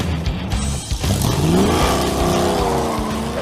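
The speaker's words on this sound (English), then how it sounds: "Next up, naturally, the 68 Charger we call the General Mayhem. It sounds epic." A 1968 Dodge Charger's V8 engine roars loudly and close, dipping briefly and then revving up in a long rising sweep as the car accelerates, with no talk over it.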